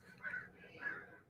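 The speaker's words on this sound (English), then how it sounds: "a bunch of crows who are making their news public" Crows call outdoors: two faint, hoarse caws spaced about half a second apart, sounding distant against a quiet background.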